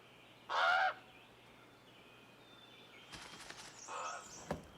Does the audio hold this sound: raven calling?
yes